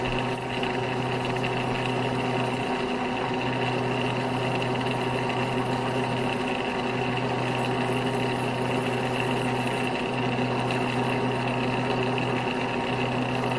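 A lathe runs in its lowest speed and bottom gear while a cobalt drill bit bores very hard metal with coolant applied. A steady, even mechanical hum and whine holds constant for the whole stretch, with no talk.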